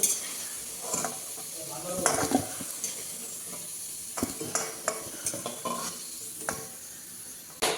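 Potatoes and eggplant fry in hot oil in a kitchen pan, giving a loud, continuous sizzle close by. Repeated scrapes and clinks from a spatula stirring against the metal run through it.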